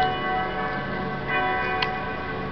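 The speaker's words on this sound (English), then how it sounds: "With the church bells tolling." Church bells toll at night across Salzburg, a continuous ringing wash of overlapping bell tones with no voices.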